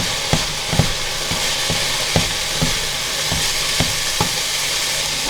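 Broccoli slaw sizzles in a frying pan as a constant bright hiss, broken by regular clacks of a utensil stirring and scraping the pan.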